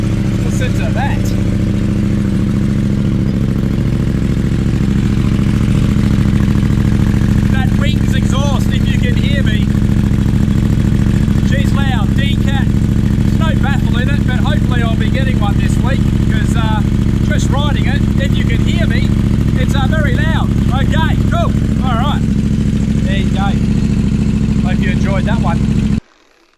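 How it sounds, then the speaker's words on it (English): A motorbike with an aftermarket decat exhaust idles loudly and steadily up close for almost half a minute, its deep burble running under a voice that talks for much of the clip. "we've got aftermarket exhaust, decat. You should hear this thing, it is bloody loud."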